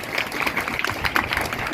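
A school gathering claps for visiting workers such as a postman, with a brief, even burst of many hands applauding together, moderately quiet and somewhat distant.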